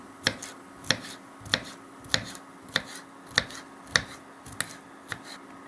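A knife chops vegetables and mushrooms into small cubes on a board, about ten crisp, evenly spaced close taps with quiet pauses between, no speech.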